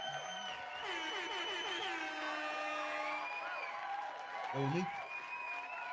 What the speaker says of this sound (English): You hear the crowd going wild.